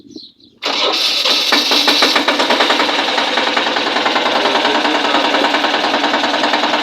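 A Captain 8G tractor engine fires up after a brief crank, then runs at a loud, steady, rapid chugging idle close by.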